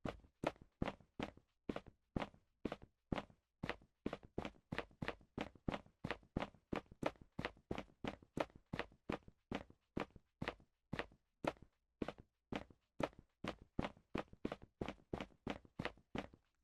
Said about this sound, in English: now that we have run and walk footstep sounds